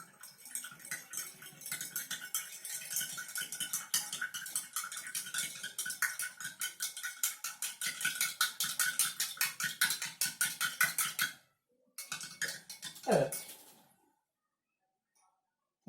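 A metal spoon stirs salt into a glass of water, rapid rhythmic clinking against the glass for about eleven seconds, close and clear, then a pause and a final few taps before silence.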